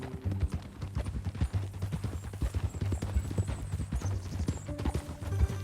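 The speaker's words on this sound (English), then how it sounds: "That a new horse?" Steady clip-clop of horse hooves walking at a moderate pace in the video game Red Dead Redemption 2, with a brief neigh partway through; close and fairly quiet.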